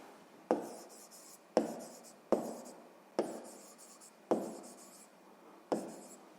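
A pen or pencil writes out a sixth-grade math solution on paper, six distinct scratchy strokes in a steady rhythm, each starting with a sharp tap and then fading, close and quiet with no talking.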